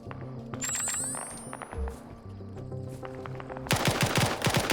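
Rapid bursts of automatic gunfire and shots from a competitive video game shooter, crackling in dense volleys with a louder clattering burst near the end, no talking.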